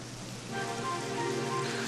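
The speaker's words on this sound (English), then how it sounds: "And now it's raining." Rain falls steadily in the video game Dragon Quest XI, an even soft hiss of drops washing over a faint tonal music bed.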